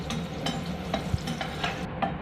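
Onions sizzle softly in a pan with a steady background crackle, broken by a few light stirring scrapes and clicks.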